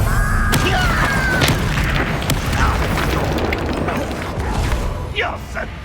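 A Bombarda blasting spell going off in the Hogwarts Legacy video game, a loud booming burst followed by crashing, rumbling debris and scattered sharp pops that slowly fade.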